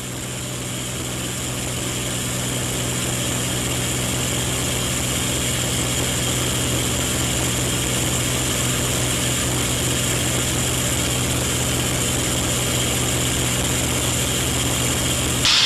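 The steady, loud drone of a TF-51 Mustang's piston engine in flight, heard from inside the cockpit as a continuous roar with strong harmonic tones and no talk.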